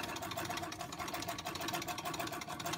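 An 1899 Singer sewing machine runs steadily while stitching, a smooth continuous mechanical whirr with a fast, even ticking rhythm at moderate volume, no voices over it.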